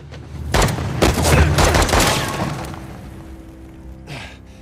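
A rapid fusillade of gunfire erupts in Uncharted: The Lost Legacy, several loud close bursts clustered over a couple of seconds before fading, followed by a single sharper shot.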